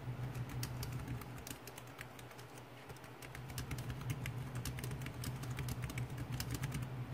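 Rapid typing on an iClever backlit wireless keyboard, a steady stream of light, crisp key clicks at close range over a low background hum, with no talking.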